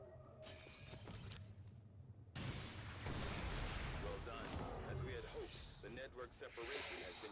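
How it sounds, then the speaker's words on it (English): In XCOM 2: War of the Chosen, a Red Storm Cannon fires with a loud, crunching blast and shattering burst, followed by rumbling impact effects and game sounds, with a voice briefly heard. "Red Storm Cannon."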